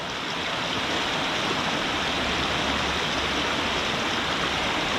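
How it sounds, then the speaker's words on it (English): A steady, broadband roar of a waterfall at Bluecut on Cajon Creek, constant and fairly loud throughout with no breaks or other sounds. "there's the waterfall"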